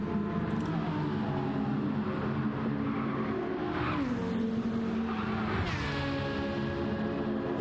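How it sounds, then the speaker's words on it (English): An Aston Martin race car in a Le Mans sim race drones steadily at high revs approaching the Porsche curves, its engine pitch dipping and climbing through gear changes, fairly faint and continuous. "So the Aston Martin all by themselves approaching the Porsche curves."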